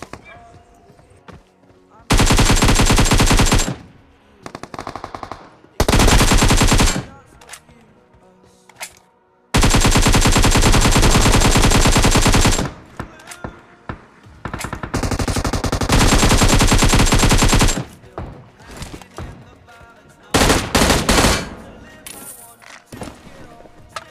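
Gunfire in a battle royale video game comes in several loud bursts of rapid automatic fire lasting a few seconds each, separated by short lulls, with quieter shots and in-game sounds between them.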